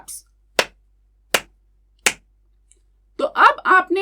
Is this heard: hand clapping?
yes